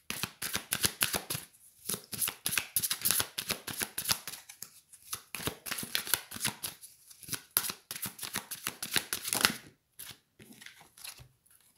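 Tarot cards are shuffled and riffled close up in a quiet room, with a long run of rapid, crisp flicking bursts broken by a few brief pauses and no voice.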